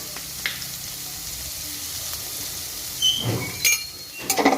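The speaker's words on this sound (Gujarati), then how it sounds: "આપણું લસણ સરસ શેકાઈ જાય એટલે આપણે એમાં ટામેટાં નાખી દઈશું" Coarsely crushed garlic frying in a pan gives a soft, even sizzle close by, with a few sharp clinks and a short stirring scrape near the end and no speech.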